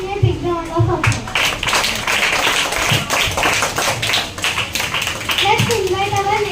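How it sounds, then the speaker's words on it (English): Applause for a child at a school assembly: a steady patter of many hands clapping in a hall, with young voices chattering over it. "Give him a big round of applause."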